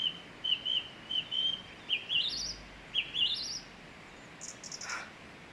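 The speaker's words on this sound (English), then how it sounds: "there's a little bird, if you can see him," A small bird chirps repeatedly in a tree outdoors, a string of high, thin tweets and short whistles at moderate distance over faint background hiss.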